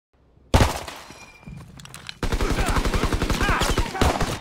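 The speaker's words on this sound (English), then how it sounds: "Oh, the gunfire, yeah, it's kind of loud." Gunfire in the PC open beta of Call of Duty: WWII during a team deathmatch. After a lone heavy shot and a quieter stretch, loud close automatic fire rattles in rapid, continuous bursts until the end.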